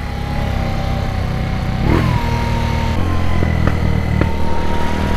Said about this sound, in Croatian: samo pun gas i ne pušta